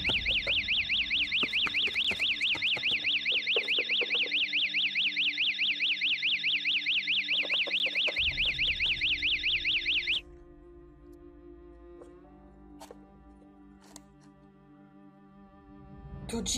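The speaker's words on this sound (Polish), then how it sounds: "Alarm?" A loud, steady electronic alarm in a video game rings in a rapid warbling pattern for about ten seconds, then cuts off, leaving low ambient rumble and faint background tones.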